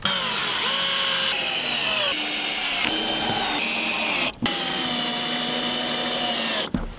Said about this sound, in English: Just had to pre-drill the holes here so I can see where I have to put the screw through